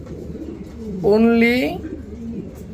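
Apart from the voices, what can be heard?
blue bar beauty pigeons cooing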